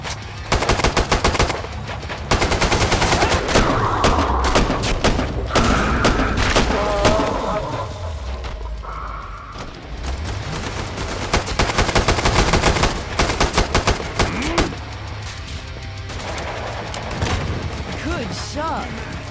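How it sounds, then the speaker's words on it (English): Rapid automatic gunfire in Killing Floor 2 on the custom HotelZed map, loud dense bursts of shots with booms and thuds, continuing almost without pause and easing near the end. "Shooting."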